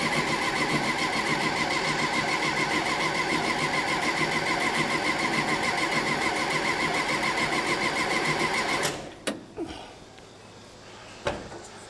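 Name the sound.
1964 Karmann Ghia engine cranking, dual 40mm carbs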